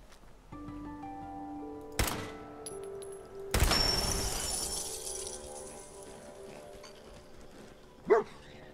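A dog barks in the Fallout 4 video game amid game sound effects: sharp crashes and a shattering burst, then a single short bark near the end, fairly faint overall.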